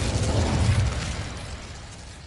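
Incendio fire spell cast in the Hogwarts Legacy video game, a roaring, crackling whoosh of flame with a strong low rumble that swells then slowly fades away, with no talking.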